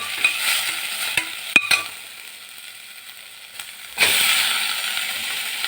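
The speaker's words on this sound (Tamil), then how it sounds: "இஞ்சி பூண்டு திருவுனது போடுறேன் அதையும் போட்டு லேசாக வதக்கிட்டு தக்காளியை போட்டுருங்க" Grated ginger, garlic and tomato sauté in a pan with a light sizzle broken by a few sharp utensil knocks, and the frying hiss swells louder near the end.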